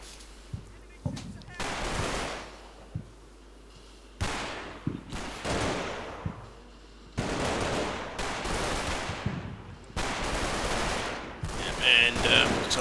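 Heavy gunfire in the Combat Mission: Battle for Normandy war game, 20mm high-explosive rounds and machine-gun fire, comes in loud repeated bursts and long sustained volleys separated by brief pauses.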